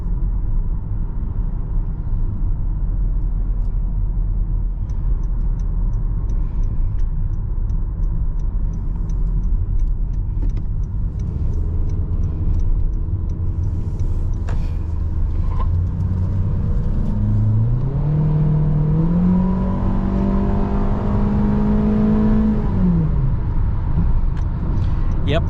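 Cabin sound of a 2022 Honda HR-V LX with a 1.8-litre naturally aspirated four-cylinder engine while driving: a steady loud rumbling drone whose pitch climbs as the engine revs up, then drops away.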